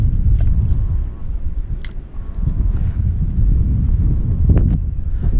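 Steady wind buffets the microphone with a low continuous rumble while kayak fishing on tidal water, broken by a few faint clicks and knocks.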